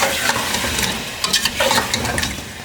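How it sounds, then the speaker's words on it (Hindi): Yogurt being stirred little by little into whole spices in a hot pan for chicken pulao, a soft scraping stir over a steady low sizzle, close and continuous with brief louder strokes. "ये अब थोड़ा थोड़ा करके आपने दही ऐड करना है और मिक्स करते जाना है।"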